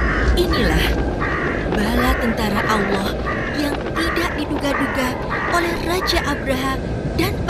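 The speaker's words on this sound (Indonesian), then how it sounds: "burung-burung yang membawa batu dari neraka itu melumatkan pasukan Abraha yang sangat besar" Crows caw repeatedly in a noisy flock, harsh calls overlapping in an irregular rhythm over a steady rumbling background, within a retelling of the story of Surah Al Fil about the army of Abraha.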